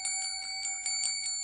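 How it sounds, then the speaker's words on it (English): A small hand bell rings in a quick run of bright, shimmering strikes, several rapid rings that blend into a sustained metallic chime, faint and isolated. "She rings a bell."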